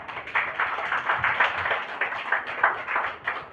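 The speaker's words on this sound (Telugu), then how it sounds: "ఇప్పుడు కొట్టరా చప్పట్లు?" A crowd at a church sermon claps in a steady run of bursts, fairly close and moderately loud, swelling and easing for several seconds.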